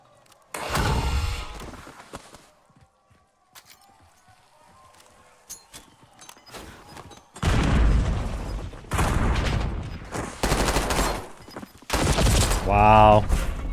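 Gunfire in the Call of Duty Warzone video game comes in loud, dense bursts of rapid shots separated by quieter gaps, with a brief tonal effect near the end.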